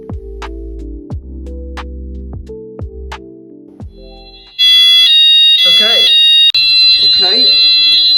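A house fire alarm smoke detector sounds during a weekly test, a loud piercing steady electronic tone that starts partway through and continues, following quieter knocking and a speaking voice.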